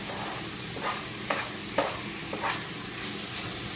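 Minced garlic is stirred into sizzling onions in a pan, with a constant fry hiss and three or four distinct scraping strokes of a utensil close by, no voices.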